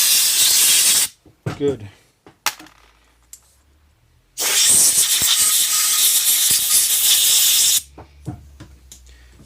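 Compressed air hisses loudly in two long blasts through a motorcycle carburetor during cleaning, with clicks and brief speech in the quiet gap between them.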